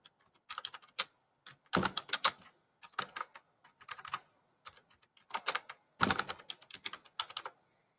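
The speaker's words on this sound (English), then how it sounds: "I can press enter, tab in, and I can type the final line here." Typing on a computer keyboard, quiet clusters of quick key clicks in irregular bursts separated by short pauses, close and alone with no voice.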